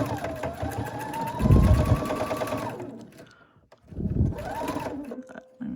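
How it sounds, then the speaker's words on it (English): Sewing machine stitching pieces of a small quilted project together through a single layer of batting, a steady close mechanical whir that runs, pauses, then starts again for a short second burst. "And I will just sew those together."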